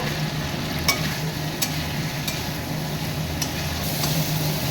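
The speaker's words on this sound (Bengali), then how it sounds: "ভালো করে মশলাটা দিয়ে এখন কষিয়ে নেব" Papaya and potato with spices being sautéed in a pan, giving a steady moderate sizzle broken by a few sharp scrapes or taps of the utensil, close by and without talk.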